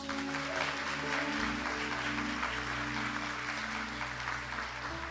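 A Catholic congregation applauds during Mass, a steady wash of clapping heard throughout over a low sustained hum, with no speech.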